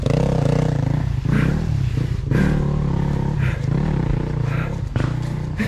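A motorcycle engine fires up and revs in uneven bursts, loud and close, with rough clattering idle between the throttle blips.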